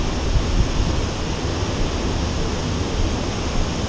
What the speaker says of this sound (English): Once more, sound of waves, of the power of the Atlantic Ocean is overwhelming, so powerful and at the same time so peaceful.